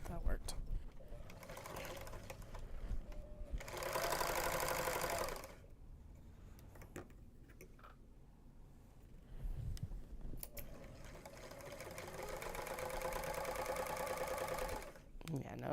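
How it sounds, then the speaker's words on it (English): Serger sewing machine running in short bursts, a loud whirring stretch near the start and a longer steady run toward the end, separated by quieter pauses with some handling noise. "if I can get the serger to run, we'll continue on"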